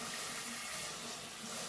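A steady, close hiss of cold water spraying from a kitchen sprayer onto blanched green beans to stop their cooking, continuous and fairly quiet with no talk.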